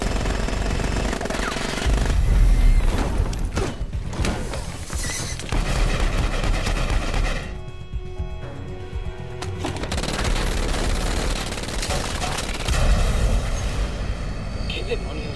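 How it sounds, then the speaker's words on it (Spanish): Automatic gunfire aboard an aircraft in an action film, dense loud bursts of shots over a constant engine roar, with a brief quieter stretch midway before the firing resumes. "Veo destellos en el interior. Parecen disparos."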